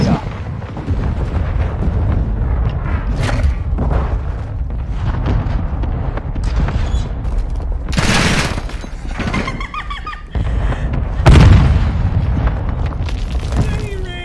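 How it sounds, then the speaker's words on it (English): Mortar strike in Modern Warfare 2 multiplayer, loud booming explosions with rumbling debris and crackling gunfire, several big blasts near the middle and end over a constant din of battle, with voices talking along. "Hostile mortar strike in the area."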